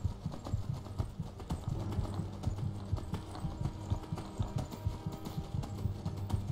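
Horse hooves galloping in the video game Skyrim, a steady rapid clip-clop rhythm of hoofbeats, close and continuous over a low ambient hum, with no talking.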